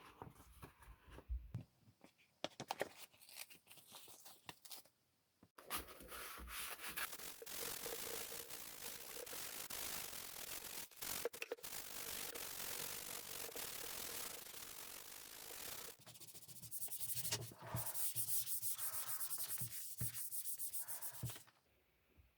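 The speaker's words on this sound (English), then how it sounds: "I've sanded the entire area with the 240 grit." Close, soft scratchy rubbing of 240-grit sandpaper worked by hand over a battery corrosion area on a 1942 Harley-Davidson, in long continuous stretches broken by brief pauses.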